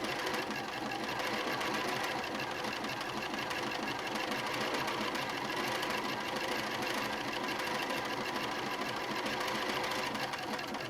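A sewing machine stitches appliques onto a dinosaur-panel quilt top, running continuously at a steady, rapid rhythmic hum and clatter, close and clear with no pauses.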